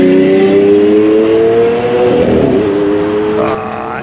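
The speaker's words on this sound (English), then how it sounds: "The Aventador coming through." A high-revving Lamborghini Aventador engine roars past close by on the Goodwood track, its pitch sliding downward as it passes, loud throughout.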